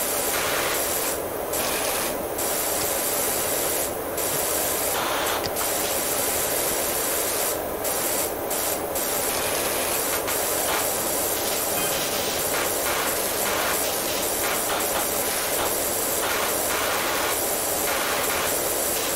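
A pressure washer sprays a golf cart in the video game Powerwash Simulator. The loud, continuous hiss of the spray runs throughout, broken by brief gaps and pulses, with no talking.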